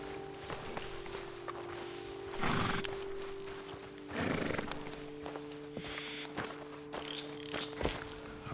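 Horses in Red Dead Redemption 2 shift and step on a roadside ledge after riders dismount, with hoof clops, snorts and a whinny amid steady outdoor game ambience.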